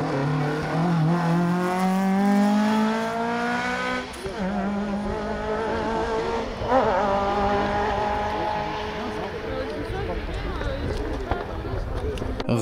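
Ford Escort RS 1800 rally car racing at the South Belgian Rally, its engine revving up and down in rising sweeps through gear changes and driving on close and loud, with a voice talking over it.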